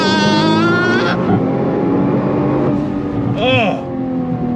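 Nissan GT-R R35 launching from 4,000 RPM, a loud rising engine roar with climbing whine and a gear-shift drop, close and strong over the full length.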